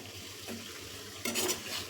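Onion fries in a pan for a homemade hair oil, giving a soft steady sizzle with faint stirring. A brighter, louder hiss swells near the end.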